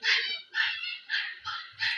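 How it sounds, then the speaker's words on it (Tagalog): A family dog barks five times in quick, evenly spaced yelps, close and fairly loud, with no talking over it. "Ang ingay ng aso namin."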